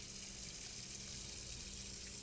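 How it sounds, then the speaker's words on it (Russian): A bathroom water tap runs in the video game Hello Neighbor, giving a steady, unbroken hiss of flowing water that fills the whole moment with no voices. "Всегда включаю воду, когда в туалет хожу."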